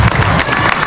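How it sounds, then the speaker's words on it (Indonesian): Studio audience applause on an Indonesian reality TV show, a short burst of dense clapping with crowd noise filling the whole moment. "Tepuk tangan untuk Sherly dari Medan"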